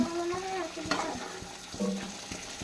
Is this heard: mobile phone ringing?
no